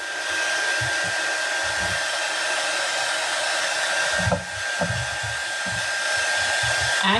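Hair dryer blowing to dry paint on a white snowman craft, a loud, steady airy roar with a constant whine, and faint handling bumps underneath.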